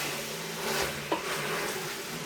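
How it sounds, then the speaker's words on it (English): Pork frying in a pan for Samoan sapasui chop suey, a steady soft sizzle with light stirring and one small clink, no talk. "the pork's starting to fry really nicely"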